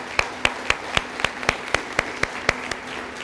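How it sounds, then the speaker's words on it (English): Audience members at a school's National Blue Ribbon celebration break into applause, heard as a regular train of sharp, loud claps, nearly evenly spaced, over a steady crowd wash. "Give yourselves a round of applause."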